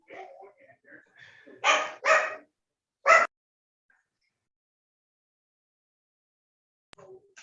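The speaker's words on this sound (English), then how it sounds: "He barks at literally anything." A tiny dog barks in a few sharp, high yips, two close together and then a third after a short gap, near and fairly loud, with faint whimpers at the start and end and long quiet between.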